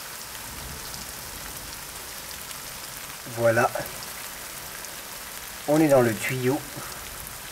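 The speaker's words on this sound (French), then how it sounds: "Ah, et la pluie commence à tomber." Rain begins to fall on a scorching hot day in Ethiopia, heard from shelter inside a pipe under a road: a steady, even hiss of rainfall runs throughout, with two short bursts of nearby talk over it.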